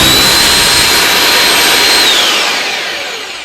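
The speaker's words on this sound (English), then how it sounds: "Why is this drill not starting on me?" A power drill's motor whines and roars steadily at close range, then winds down and fades toward the end.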